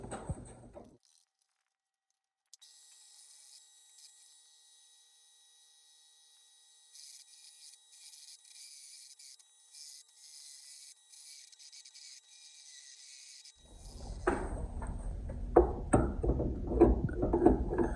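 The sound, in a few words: cutting a Honda trailer hitch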